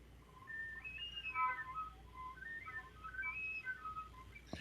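A flute produces thin, high whistle tones, a series of wavering pure pitches that slide and flicker quietly over several seconds.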